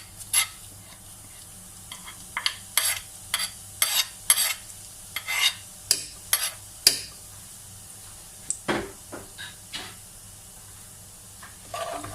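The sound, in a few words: cumin seeds frying in oil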